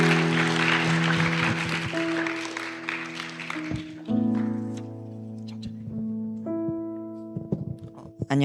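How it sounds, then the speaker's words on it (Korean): A church congregation at an outreach thanksgiving service applauds to encourage a student, a crackling burst of clapping that fades after a few seconds while sustained keyboard chords ring on beneath and continue alone. "우리 주안이 나올 때 박수로 격려해 주시면 감사하겠습니다."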